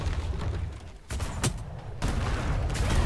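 Ship cannons firing in a naval video game battle, a few heavy booms breaking through a constant low rumble of gameplay noise, with bursts near the start and middle over a dense, loud background.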